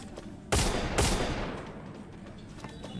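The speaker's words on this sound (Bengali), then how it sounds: "আবার গ্রেনেড মারতেছে" Grenade blasts in a shooter video game: two loud explosive bursts close together, each followed by a rumbling decay under steady background game noise, with no talking.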